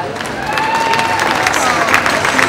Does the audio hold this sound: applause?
yes